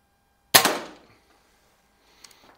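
A single sharp crack from a 10 meter target air pistol, Feinwerkbau 65 or Beeman P3, rings out close and loud with a short decaying tail, followed by faint small clicks of handling near the end.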